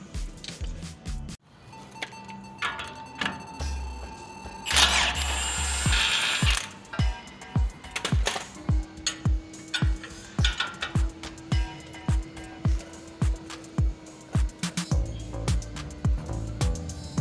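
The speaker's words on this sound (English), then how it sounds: "We're going to loosen this off and break the joint on there." Ratchet wrench clicking rapidly in steady strokes while loosening a suspension joint on a 2019 Toyota Tundra during a leveling kit install, with a short metallic clatter partway through; close and fairly loud, no talking.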